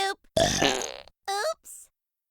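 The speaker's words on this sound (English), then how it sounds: "If you hit it just right, I'll poop and burp at the same time." A cartoon character lets out a long, loud, rasping burp, followed by short grunting vocal sounds, close and isolated, with brief gaps of silence between them.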